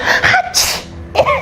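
A single loud, close sneeze with a sharp intake and burst, heard alone.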